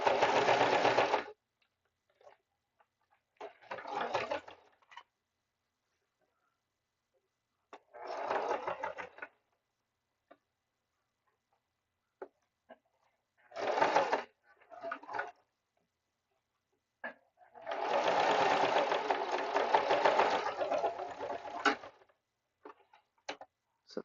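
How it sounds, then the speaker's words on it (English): Sewing machine tacking a bag's gusset to the exterior panel, running in several short bursts with pauses between and a longer continuous run near the end, close and clear with no talk. "this is a stitch to kind of tack the gusset to the exterior"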